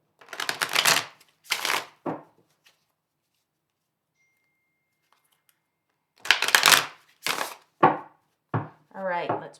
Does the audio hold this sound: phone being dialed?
no